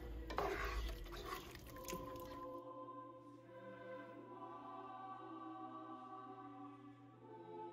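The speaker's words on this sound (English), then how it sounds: "I'm just going to stir until it thickens" Cornstarch-thickened sauce stirred in a pot: soft wet squishing and spoon scraping close by, louder at first and then fading to quiet, gentle stirring under a faint background hum.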